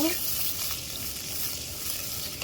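Ginger garlic paste sizzles and fries in a pan for egg and potato curry, with a steady bright crackle and some stirring. The sound stays close and continuous, with no speech.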